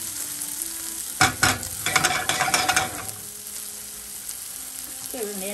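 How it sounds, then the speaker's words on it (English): Burrito filling sizzles in a hot pan while being stirred, giving a burst of scraping, crackling stir noises in the middle before settling back to a steady, close fry. "Get that sizzle."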